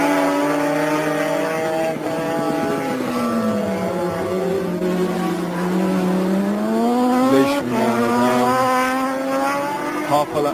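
Racing Norton motorcycle engines scream at high revs during a race as the pitch rises and falls with gear changes while bikes pass. A commentator talks over the engine noise.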